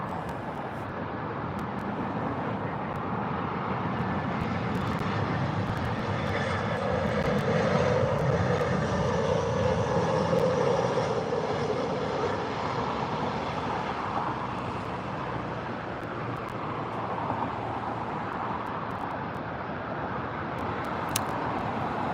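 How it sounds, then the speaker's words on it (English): EasyJet airliner landing at London Gatwick Airport, a steady broad jet engine roar that swells gently and holds for over twenty seconds, fairly close and continuous. "And here comes the EasyJet."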